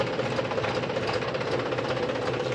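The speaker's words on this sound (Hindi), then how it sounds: "ट्रैक्टर को कर लिया स्टार्ट।" A tractor engine running after starting, a steady rattling diesel idle with knocking texture, continuous and fairly close, in a workshop testing hard power steering.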